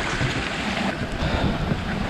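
Water at Aadoshi waterfall near Khopoli rushes in a steady outdoor roar mixed with wind buffeting the microphone, with no voices.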